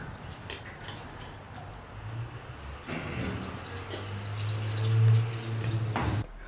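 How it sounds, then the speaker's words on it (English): Gasoline draining from the fuel tank of a 1973 Camaro, a steady close trickling and splashing pour into a container that rises into a fuller gurgling stream toward the end, with no talk. "So I've got to drain the gas out."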